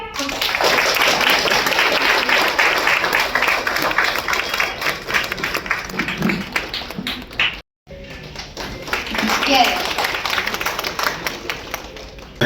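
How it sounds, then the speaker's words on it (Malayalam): A crowd claps continuously in dense, steady applause, briefly cutting out before resuming, with some voices underneath. "എല്ലാവരും നല്ലൊരു ക്ലാപ്പ്"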